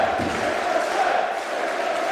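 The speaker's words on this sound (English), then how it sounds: "Listen to this ovation" A wrestling crowd in Manchester gives an ovation at a Pro Wrestling World Cup quarter-final, a loud sustained roar of cheering and chanting that fills the arena without pause.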